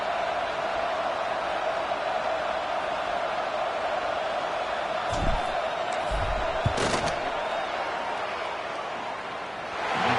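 Crowd at a college football stadium, Alabama against Clemson, murmurs in a broad steady roar during a field goal attempt, with a few sharp thuds and brief swells rising from the din.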